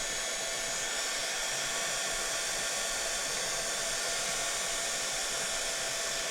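A heat tool blows steadily and loudly up close, drying paint on an MDF storage shelf, a constant whooshing airflow roar with no pauses and no voices.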